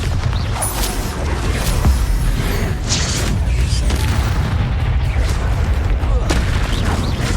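Bombarda blasting spell explosions in the video game Hogwarts Legacy, loud booming impacts with rumbling low-end bursts and crackling debris repeating across the clip amid combat noise.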